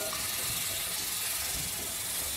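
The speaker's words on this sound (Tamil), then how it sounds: "பூண்டு இஞ்சி பச்சை வாசனை போகிற வரைக்கும் நம்ம வதக்கணும்" Crushed garlic and ginger sizzle in a hot pan with a loud, steady hiss that stays constant throughout.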